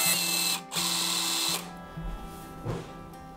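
A Stanley PB2500S smart riveting tool sets a rivet: a loud mechanical whirring motor run with a brief break, then it stops, followed by a couple of soft clunks as the rivet is finished.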